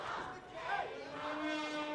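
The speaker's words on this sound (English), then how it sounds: "you hear the chants of Mexico, Mexico from this sold-out crowd" A sold-out lucha libre wrestling crowd chanting in unison, a massed rhythmic roar of voices holding steady through a short burst, heard without any separate speaker.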